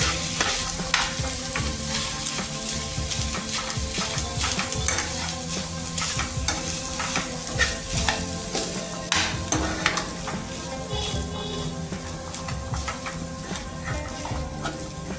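A spiced potato and chickpea mixture with turmeric for Uttar Pradesh–style aloo chaat katori is stirred and fried in a pan, a steady sizzle under repeated scraping spoon strokes, close and continuous throughout.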